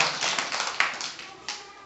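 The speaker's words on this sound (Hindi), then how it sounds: "ताली बजाओ सब इसके लिए।" Students clapping their hands together in a government middle school classroom in Begusarai, a quick burst of fairly faint applause lasting under two seconds with a few sharper claps standing out.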